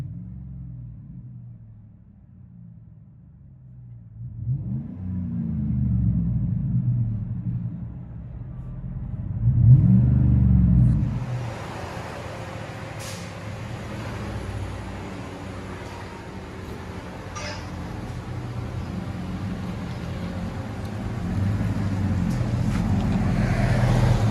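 Interior engine note of a 2007 Chevy Silverado with a 5.3L V8 and dual Flowmaster 40 Series exhaust: a low idle rumble, revs swelling around the middle, then a steady broader cabin roar, no talking.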